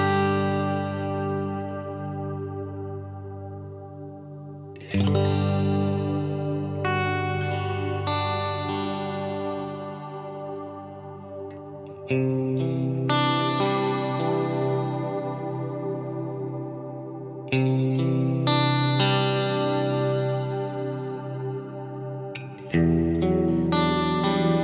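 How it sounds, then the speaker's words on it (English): Electric guitar chords ring out through a Cornerstone Nucleo pedal in chorus mode, the shimmering modulation deepening as each strummed chord sustains and decays, several strums alone with no talk. "This is a type of chorus type of modulation because we are in normal mode."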